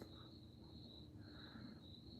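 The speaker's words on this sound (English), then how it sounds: "Nice crickets tonight." Crickets chirp at night in a steady high, fast trill that pulses continuously, faint and distant against a quiet outdoor background with no voices.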